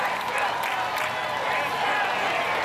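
At American Ninja Warrior, USA vs The World, an arena crowd cheers and applauds in a steady, dense roar that holds at an even level throughout.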